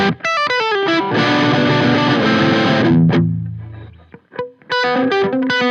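Electric guitar played through a drive pedal with its gain at zero: a quick single-note run, then a long strummed chord that rings and fades, followed by further picked notes, loud and lightly gritty.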